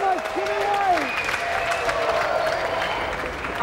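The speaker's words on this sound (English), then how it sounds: "Another round of applause, thank you very much, Jimmy Ray!" A television studio audience applauds continuously, a dense wash of clapping with a voice speaking over the start.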